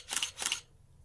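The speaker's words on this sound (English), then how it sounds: "There are small snippets of conversation in between the clicking of the camera." A camera shutter fires twice in quick succession, two crisp mechanical clicks close to the microphone, followed by quiet room tone.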